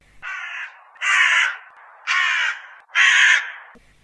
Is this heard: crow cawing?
yes